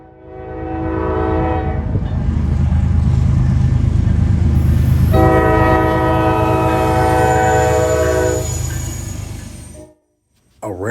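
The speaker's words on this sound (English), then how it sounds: "A rare BNSF in Heritage 1 paint, trailing second behind the leader with a nice horn." Norfolk Southern freight train rolling past with a BNSF locomotive in Heritage 1 paint trailing second, its loud horn blaring in long steady blasts over heavy rail rumble before cutting off abruptly.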